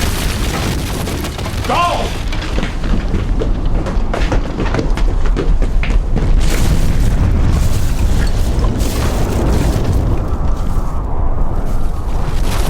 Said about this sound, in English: Secondary explosion down below. If the flames make it up to that gas...